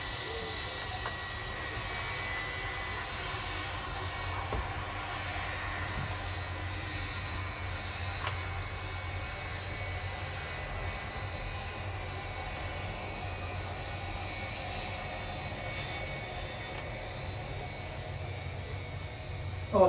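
A thirty-year-old Jet2 Boeing 757-200 landing at Manchester, UK, heard as a steady, moderately distant jet engine roar that holds evenly throughout with no talking.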